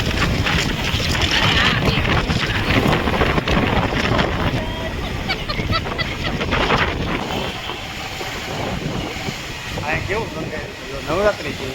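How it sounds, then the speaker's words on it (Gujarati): Strong wind roars into the microphone along a busy street in Surat during the Ganesh festival, a constant heavy buffeting mixed with traffic noise throughout. "તો પવન બહુ છે, ટ્રાફિક બહુ છે."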